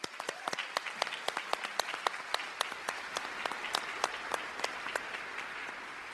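An audience at an Air Force ceremony gives a round of applause, with fairly faint, scattered, steady clapping that comes from some distance.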